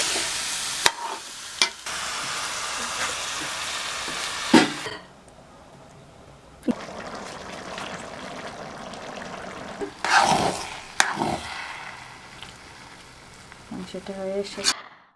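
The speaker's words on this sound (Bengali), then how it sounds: "এখন আমি দিয়ে দিচ্ছি চিনি গুঁড়া, চালটা ধুয়ে পরিষ্কার করে রেখে দিয়েছিলাম, এটা দিয়ে দিচ্ছি।" Stirring and sizzling in a pan as washed rice and sugar go into frying biryani, with bursts of scraping and clatter between quieter gaps; a voice speaks briefly.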